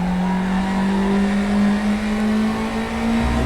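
NSU race car engine at Nogaro circuit in the RaceRoom racing game, a loud, steady high-revving buzz that holds pitch before a brief drop near the end, heard without talk.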